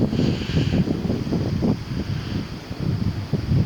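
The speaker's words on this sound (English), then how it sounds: "It's windy" Wind gusts buffet a microphone outdoors at twilight during a night of solo car camping, a low rumbling rush that swells and dips unevenly with no talking.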